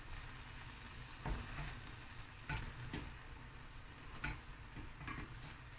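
Prawn akhni with basmati rice stirred in a pot, faint low sizzling beneath a few scattered scrapes and knocks of the spoon, quiet and close, with no talking.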